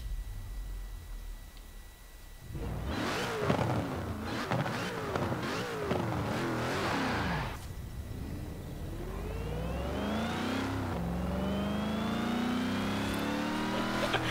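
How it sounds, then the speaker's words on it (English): Supercharged car engine in the racing game Forza Horizon 4 revving hard and accelerating through rising gear sweeps with a whining supercharger tone, loud and close for most of the stretch after a quiet opening. "Just listen to the supercharger"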